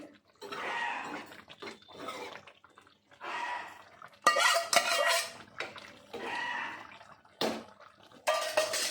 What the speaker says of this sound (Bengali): এবার আমি একটু চিংড়ি মাছটা দিয়ে নাড়িয়ে চাড়িয়ে